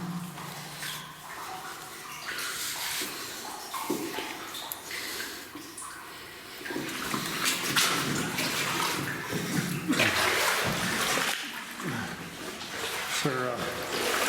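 Boots sloshing and splashing through shallow water inside an abandoned 910-metre tramway tunnel in Greenwood, with wet echoing steps close by and a person talking over them.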